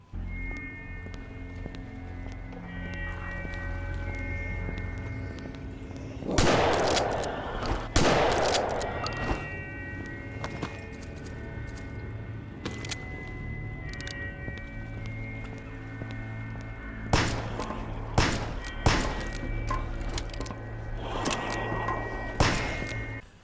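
Revolver and shotgun fire in the stealth horror game Gloomwood: a few heavy booming shots in two clusters, separated by quiet stretches of low droning ambience with tonal hums.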